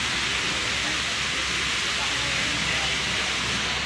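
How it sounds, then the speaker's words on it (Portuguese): Water gushes steadily from thermal wells at an outdoor spring site, a loud, continuous hiss and roar that holds for the whole four seconds. "E ali estão os poços de água jorrante."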